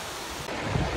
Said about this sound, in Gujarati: આ જબ્બર વોટરફોલ છે